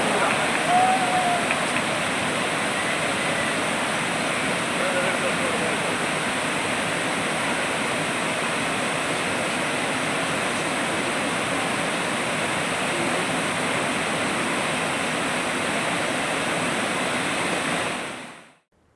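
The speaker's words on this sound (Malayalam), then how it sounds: "ജലനിരപ്പ് ഉയരാതിരിക്കാനായി മലമ്പുഴ ഡാമിന്റെ 4 സ്പിൽവേ ഷട്ടറുകളാണ് തുറന്നിരിക്കുന്നത്" Water gushes through four opened spillway shutters of the Malampuzha dam in a steady, dense roar that holds for the whole stretch before cutting off abruptly at the end.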